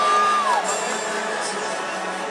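A big home crowd at a North Carolina Tar Heels college football game against Virginia roars in a sustained, broad wash of cheering and whoops, with a distant whistle-like tone near the start.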